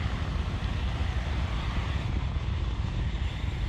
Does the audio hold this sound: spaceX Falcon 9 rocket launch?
yes